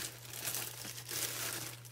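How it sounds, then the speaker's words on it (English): Clear craft foil sheet being handled up close, a soft continuous crinkling and rustling of thin plastic film, quiet and alone. "Okay, and then I'm going to bring in a piece of the clear foil."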